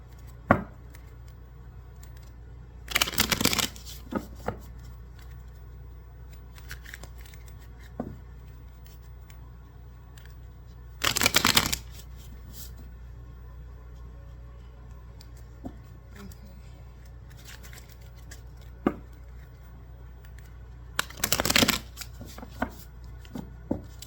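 Oracle cards shuffled by hand in three separate bursts, each a few seconds long and fairly close, with quiet pauses and light handling noises between them.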